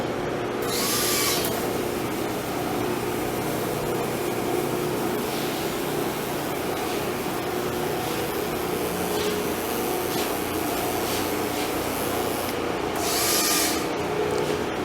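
A powder coat gun sprays a light dust coat onto a truck wheel, giving a steady airy hiss and rush that holds throughout, with brief brighter bursts near the start and end.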